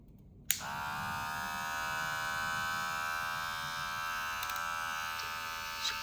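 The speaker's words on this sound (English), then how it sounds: "And here's the clipper on this one right here. I'm going to turn this on so you can hear what it sounds like." A GAMMA+ Protégé electric hair clipper switches on with a click and runs with a steady, close buzzing hum, a couple of faint clicks near the end and no talking.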